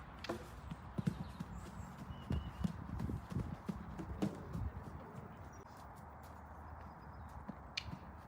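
A horse cantering around a riding school, its hooves clip-clopping in a quick, rhythmic beat at a moderate distance, faint and steady, with occasional birdsong in the background.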